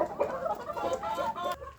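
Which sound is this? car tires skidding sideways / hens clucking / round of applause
hens clucking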